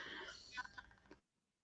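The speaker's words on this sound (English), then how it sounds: "Sorry, I keep having a cough." A single cough, close and fairly quiet, cutting off sharply into silence after about a second.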